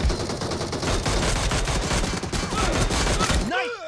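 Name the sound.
gunshots in BGMI video game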